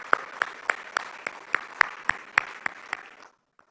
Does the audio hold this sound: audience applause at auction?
yes